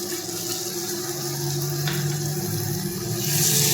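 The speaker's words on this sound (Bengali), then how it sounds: "পেঁয়াজ ভাজা হয়ে যাওয়ার পর এতে আমি দিয়ে দেব টমেটো পিউরি," Tomato puree hits fried onions in a pan for chicken curry, giving a loud, steady sizzle that holds throughout and grows slightly at the end.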